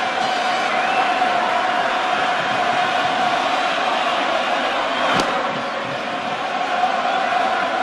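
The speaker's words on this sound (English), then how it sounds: "You can hear the buzz going through the crowd." A stadium crowd at a 1999 World Series baseball game, Braves at Yankees, hums with a loud continuous buzz of many voices, rising and falling slightly, with one sharp slam-like crack midway.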